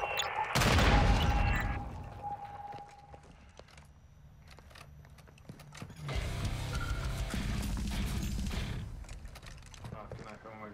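Gunfire from the Call of Duty Warzone 2.0 video game, a loud close burst early, then quieter mechanical clatter and a later stretch of sustained distant firing, with game sounds throughout.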